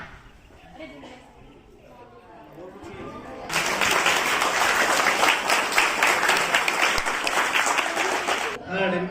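A school classroom full of students bursts into sustained applause during a science quiz after a quieter stretch of murmuring, the clapping loud and steady for several seconds.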